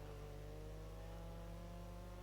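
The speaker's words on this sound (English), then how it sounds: "you can hear that engine really struggling to put the power down here" A rally car engine strains under load at a Monaco rally round, a steady droning hum with sustained tonal whine, heard faint and distant without rising revs.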